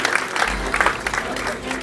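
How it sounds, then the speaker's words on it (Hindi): A nine-month-old baby girl claps her hands again and again at a crowded outdoor campaign gathering, the soft claps blending into steady crowd noise while adults talk throughout. "हमारी बेटी, बार बार ताली बजा रही है"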